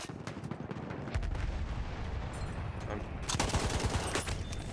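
Rapid automatic rifle fire from a BAR in Battlefield 1 multiplayer, bursts of shots running throughout with a denser, louder volley near the end, mixed with other battlefield noise.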